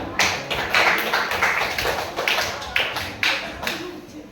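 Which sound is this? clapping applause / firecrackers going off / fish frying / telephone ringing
clapping applause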